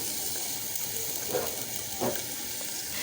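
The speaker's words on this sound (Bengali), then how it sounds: "মশলাটা সম্পূর্ণ কষে আসছে, এর মধ্যে দিয়ে দিচ্ছি ফুলকপি" Cauliflower pieces dropped into a pan of simmering spice paste give a steady soft sizzle and hiss, with a couple of brief louder bursts of frying as the florets hit the hot masala.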